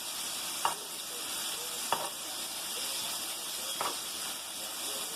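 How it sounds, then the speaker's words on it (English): Food pieces frying in hot oil give a steady, dense sizzle, broken by three sharp clicks as a fork taps among them. "Take your fork and just make sure they're all submerged into the hot oil."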